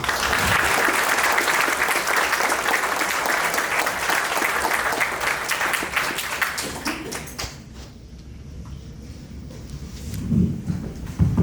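A seated audience at a leadership talk for MBA students applauds to welcome the speaker and moderator, steady dense clapping for about seven seconds that fades out, followed by a quieter room with faint shuffling and a few closing claps.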